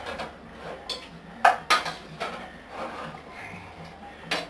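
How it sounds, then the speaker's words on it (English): Onion is stirred into browning mince in a pan over high heat, heard as a few close metallic clinks and scrapes of a utensil against the pan over a low background sizzle. "I'm going to take the onion, add the onion, and get that stirred through"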